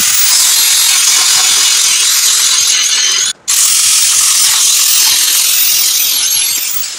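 A steel engine mount plate for a 3SGTE swap into a KP61 Starlet is drilled and cut, giving a loud, continuous, harsh grinding-cutting noise for several seconds with one brief pause midway.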